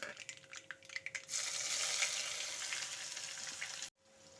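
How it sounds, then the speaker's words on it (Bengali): Chopped onion drops into hot oil tempered with curry leaves, setting off a loud, steady broadband sizzle that holds for a couple of seconds after a few lighter crackles, then cuts off sharply near the end. "ফোড়ন থেকে সুন্দর গন্ধ বেরোতে শুরু করলে পরে দিয়ে দেবো পেঁয়াজ কুচিটা"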